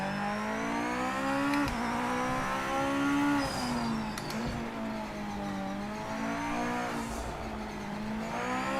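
GT500 race car engine in the Project Motor Racing video game, a steady high-revving drone with shifting pitch as the car accelerates and changes gears, heard alone and up close throughout.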